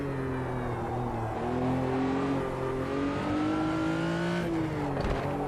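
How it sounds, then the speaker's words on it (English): A Porsche RSR race car in the Automobilista 2 racing game builds its engine note steadily and rises through the revs, then briefly dips as it shifts and climbs again, heard as a close, continuous in-car drone. "So Todd's asking, did the RSR get a sound update? I think it probably has"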